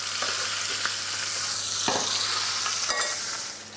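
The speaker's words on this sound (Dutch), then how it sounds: "Dan ons duifje wat bedruipen met de boter." Pigeon sizzles in butter in a hot pan with a steady crackle, punctuated by a few sharp clinks of a utensil basting close by.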